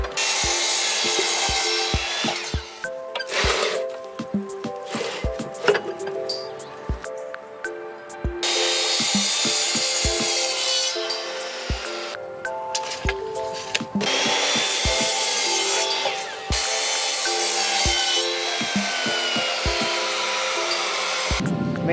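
A power saw cuts miters through wooden trim boards in several long whining bursts, the blade spinning up and winding down between cuts, with sharp knocks as the boards are positioned.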